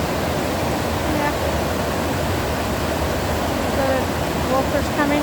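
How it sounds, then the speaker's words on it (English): Fast-flowing water swollen by rain roars steadily and close by, a dense, unbroken rushing wash with faint voices barely emerging beneath it. "We'll just stay here for a minute, guys, and just let you hear the roar of the water."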